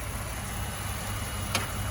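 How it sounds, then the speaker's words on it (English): A 2018 Ford F-150 EcoBoost engine idles steadily with a low, even rumble, close by and continuous, with a brief faint click partway through. "There's that Ecoboost engine."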